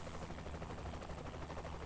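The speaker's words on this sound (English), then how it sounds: "watch the chopper. Don't blow up the chopper now." A helicopter in Saints Row: The Third gives a continuous fast rotor chop under a dense mechanical drone, fairly quiet and unbroken, with no voices.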